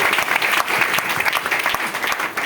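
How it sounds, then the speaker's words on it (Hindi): An audience at a talk about Ganoderma mushroom products breaks into vigorous, close applause, a crackling steady patter of many hands. "जबरदस्त ताली होनी चाहिए गायनोडर्मा के लिए"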